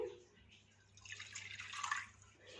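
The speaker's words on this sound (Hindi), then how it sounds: "पानी डालते हैं" Water poured into a container for soaking black chickpeas, making a soft, close splashing and trickling that swells over about two seconds, fairly quiet and heard on its own.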